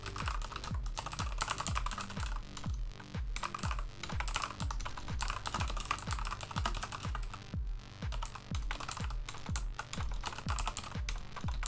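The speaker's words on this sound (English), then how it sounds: "typing with acrylics is a nightmare" Rapid, continuous clatter of a computer keyboard being typed on with acrylic nails, crisp and close, with music playing softly underneath throughout.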